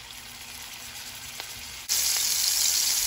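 Chicken chapli kabab patties hit hot oil in a pan: a quiet background hiss jumps suddenly into a loud, steady crackling sizzle that carries on without talk.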